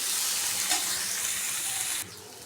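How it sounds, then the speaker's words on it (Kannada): Garlic and ginger fry in a hot pan with a loud, continuous, close sizzle and light stirring, then the sizzle drops off abruptly near the end. "ನಾನು ಈಗ ಈ ಥರ ಚೆನ್ನಾಗಿ ಫ್ರೈ ಮಾಡ್ಕೋಬೇಕು"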